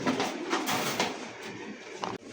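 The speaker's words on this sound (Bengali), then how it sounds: "খুব সুন্দর একজోড়া দেখার মতন কবুতর মাশাআল্লাহ" A pair of pigeons cooing close by, soft throaty coos repeating in a steady rhythm over a short stretch, with no talking.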